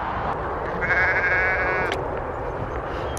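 A sheep on open hill pasture lets out a single drawn-out, wavering bleat, fairly close and clear over steady wind noise, with no talking.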